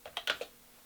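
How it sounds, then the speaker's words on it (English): A few quick keystrokes on a Mofii Sweet keyboard, four crisp clicks in an uneven burst lasting under a second, close and fairly quiet, with silence after. "I'm going to just get some keystrokes in here for a second before we hook it up to a computer"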